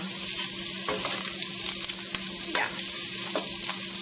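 Food sizzles steadily in a nonstick pot for Cajun pasta, with a constant bright frying hiss and occasional stirring scrapes, close up and with no voices.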